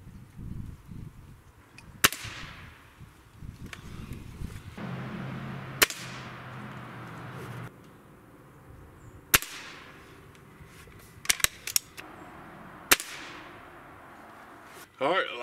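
Shots from a Crosman 7.4 Destroyer air rifle, about five sharp, isolated pellet cracks spaced a few seconds apart, each followed by a brief ring, with faint talk and quiet handling between them.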